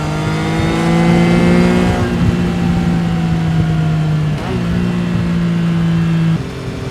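A 2024 Triumph Trident 660 motorcycle engine revs hard and steady in fourth gear as the rider accelerates on a road to overtake a car, with the pitch shifting near the end as the bike pulls past.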